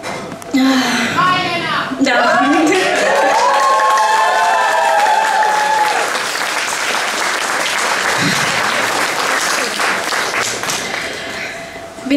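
Audience at a Cozy Poetry Night in Bucharest bursting into sustained clapping with some cheers and laughter, loud and dense for about ten seconds before fading, with a few voices mixed in.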